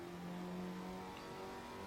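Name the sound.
racing car engine in video game Assetto Corsa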